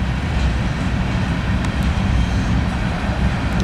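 Norfolk Southern freight train passing by Alliance, hauled by NS power, a loud, close, continuous rumble and rolling clatter of railcars with no break.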